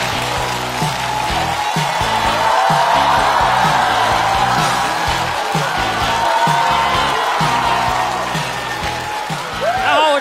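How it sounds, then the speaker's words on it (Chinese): A talk-show audience at a Chinese stand-up comedy contest applauds and cheers to welcome a comedian, with sustained loud clapping, whoops and crowd noise throughout. "掌声欢迎陈果"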